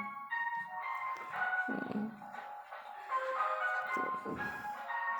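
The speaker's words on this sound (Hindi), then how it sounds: "आवाज़ भी आ रही है बाहर से कुल्फ़ी वाले की" A kulfi ice cream vendor's melodic, sing-song call carries faintly from outside, rising and falling in drawn-out tones with short pauses.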